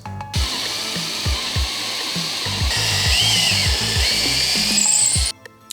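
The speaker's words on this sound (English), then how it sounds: "we are going to be drilling through a 6-inch lag bolt straight through from the bottom and top" A power drill drives a 6-inch lag bolt through wood into a stud, its motor whirring loud and close in rapid repeated pulses before cutting off.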